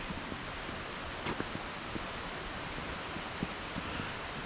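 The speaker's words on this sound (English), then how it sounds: "I can hear the waterfall already." Madison Falls on the Elwha River: a steady, broad rush of falling water fills the air without pause, soft and somewhat distant, with faint scattered clicks on top.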